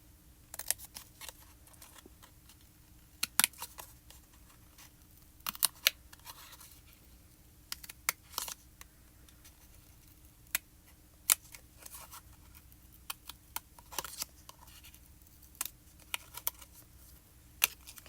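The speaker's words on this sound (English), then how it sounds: "we're just going to take our scissors and we're going to cut this egg kind of jagged" Sharp scissor snips cut a jagged line through a paper egg, quiet crisp clicks coming in irregular bursts with short pauses between them, close by and with no talking.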